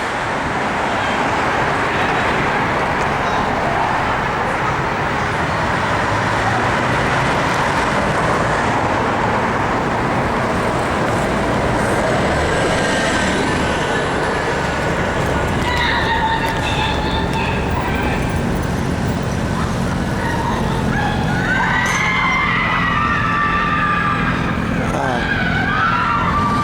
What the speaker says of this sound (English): That sound you're hearing is some kids that are celebrating high school graduation